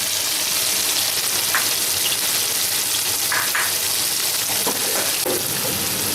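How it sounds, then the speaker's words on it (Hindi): Spice masala of green and red chilli, turmeric and black pepper fries in hot oil for beef shashlik, giving a steady, loud sizzle with occasional scraping stirs and crackling pops, with no voices. "ये हमने सारे मसाला जो डाला है इस मसाले को अच्छी तरह भून लें, ऑयल आने तक पकाएं।"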